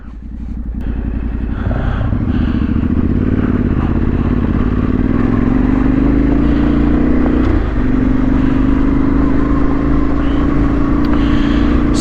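Motorbike climbing a loose, rocky trail up Gilbert Lane in the Yorkshire Dales, a loud steady engine drone that rises gradually in pitch, with clatter from the stones underneath.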